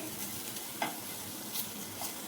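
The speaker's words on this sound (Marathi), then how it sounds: "खजुराला जास्त नाही परतायचं, थोडंच परतून घ्यायचं" Dates are lightly roasted in a pan and stirred, giving soft scraping strokes over a faint, quiet sizzle, with a few sharper clinks and no voices.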